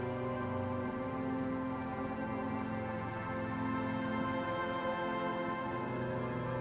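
Rain falls steadily near the coast in Disco Elysium, a constant even hiss of drops at moderate volume with soft tonal music held underneath throughout.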